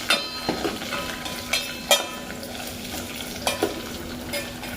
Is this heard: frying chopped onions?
yes